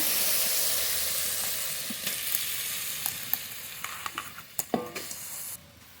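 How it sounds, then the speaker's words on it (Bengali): Sugarcane jaggery heats in a wok for mango pickle, giving a steady broadband sizzle with scattered stirring clicks and scrapes that grow more frequent toward the end, close and moderately loud with no talking. "এবার আখের গুড় কড়াইতে দিয়ে দেব আখের গুড়টা একটু জাল দিয়ে নেব"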